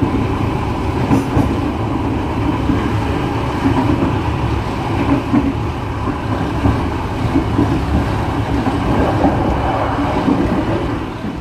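KA Brantas economy-class train paused at a station before departure, heard from inside as a steady, loud low rumble and hum of idling machinery and air conditioning, continuous with no voices.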